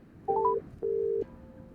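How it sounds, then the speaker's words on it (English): Satellite phone dialing a mobile number, a few short keypad tones followed by two longer electronic ring tones, heard alone and moderately loud in quiet surroundings. "I punched in Penelope's cell number and listened to the rings."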